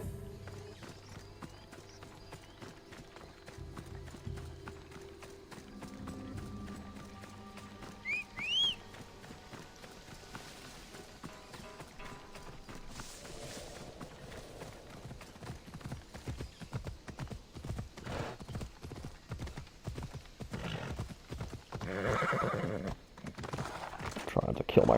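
Galloping horse hooves in Assassin's Creed Odyssey, a steady rapid clip-clop that grows denser and louder toward the end, with a whinny and game music underneath and a voice talking over it.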